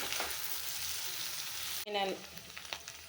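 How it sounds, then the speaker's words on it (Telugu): Baby corn pieces frying in a pan for baby corn Manchurian, a steady loud sizzle throughout with a brief break and a short stir or clatter near the end. "ఈ బేబీకార్న్ని మీరు చిన్న చిన్న ముక్కలుగా కూడా కట్ చేసుకోవచ్చు, అలాగే ఇలా కూడా ఫ్రై చేసుకోవచ్చు"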